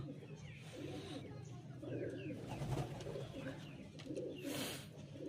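Pigeons, including Arshad-line and eye-marked fancy birds and Fulshira types, coo softly and repeatedly at close range, with low rolling calls over quiet background noise and faint rustling.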